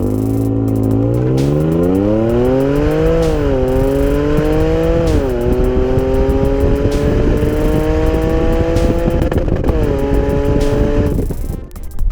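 2017 Jaguar F-Pace V6 S AWD accelerating hard toward 100 km/h, loud close engine climbing in pitch through several upshifts, each change dropping the note briefly before it rises again, no talking.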